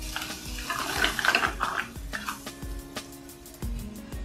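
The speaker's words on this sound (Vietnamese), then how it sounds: "Mình xào sơ cua thôi nha các bạn, không có xào cho nó chín quá" Crab briefly stir-fried in a pot with seasoning, heard as close metallic scraping and clinking of a utensil against the pot with a faint sizzle, in a steady working rhythm.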